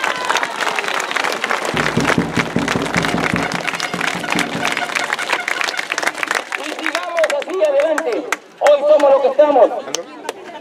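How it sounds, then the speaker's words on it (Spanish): Audience applause and clapping at a community rally defending water rights, a dense wash of claps mixed with a speaker's voice over a PA, fading as talk resumes near the end. "Un aplauso para todos ustedes."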